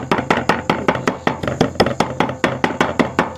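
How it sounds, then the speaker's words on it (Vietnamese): A knife minces food on a cutting board in a home kitchen, making rapid, evenly spaced sharp chops, about five per second, close and crisp with nothing else heard. "Băm nhỏ ra rồi cô bác."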